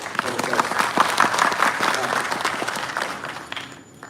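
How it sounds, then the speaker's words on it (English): Audience applause at a freshers' welcome meeting in Delhi, a dense steady clatter of many hands clapping together, fairly loud and close, with some voices mixed in before fading near the end. "We have to give a one big hand clap, okay?"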